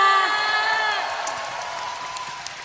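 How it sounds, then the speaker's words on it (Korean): A large concert crowd at a Seoul tour show applauding and cheering in a broad, sustained roar, with a few high whoops over the clapping. "박수 한번 주세요."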